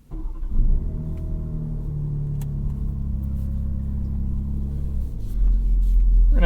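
A 2021 BMW M3 in efficient engine and comfort mode pulls away toward the highway, its engine a steady close rumble with a low drone that swells slightly near the end, with no talking.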